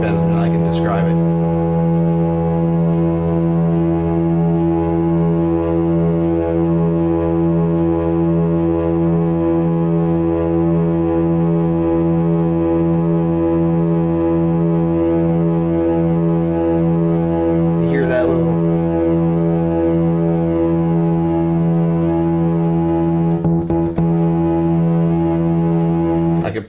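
An analog synthesizer holds a loud, steady buzzing square-wave tone with pulse width modulation, a dense harmonic drone that barely changes over nearly half a minute, with faint handling noises now and then.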